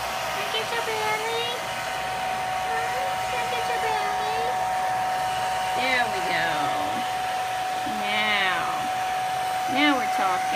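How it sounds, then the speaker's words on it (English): A hair dryer blows with a steady whine throughout, drying a hedgehog after a bath, while a person talks over it. "Hershey likes the hair dryer."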